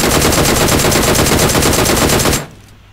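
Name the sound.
gunfire from video game PUBG Mobile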